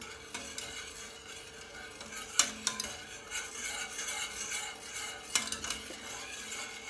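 A spoon stirs a chocolate milk pudding mixture with cocoa in a pot, giving soft, repeated scraping strokes and occasional clinks against the pan over a faint low sizzle, fairly quiet and without speech.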